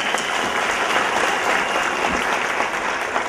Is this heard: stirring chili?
no